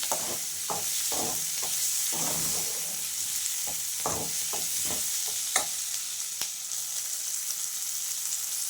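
Chopped tomatoes sizzle in a pan for palak paneer gravy under a constant high hiss, broken by a quick run of rhythmic spatula scrapes and taps that thin out later.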